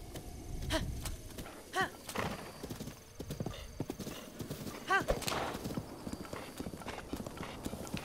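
Horse hooves clip-clop steadily during a ride in Zelda: Breath of the Wild, with a couple of whinnies breaking through. Someone talks over the game sounds.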